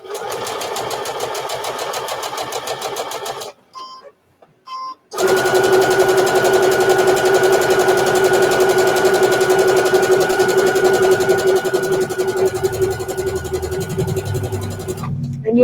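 A sewing machine stitching a bowl mitt, a loud steady mechanical whir close by, briefly stopping and restarting, then running continuously to the end.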